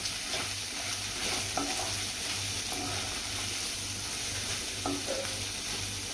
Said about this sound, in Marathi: थोडं मीठ घालूया। पहिले आपण कांदा परतताना मीठ घातलेला। मिक्स करून घेते।